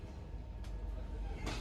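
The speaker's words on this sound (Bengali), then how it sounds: "প্ল্যাটফর্মে ঢুকছে ট্রেন" The Darjeeling Mail, a festival special, rolls into a station platform at New Jalpaiguri. A low, steady rumble of the moving train is heard from inside the coach, with two brief hissing bursts.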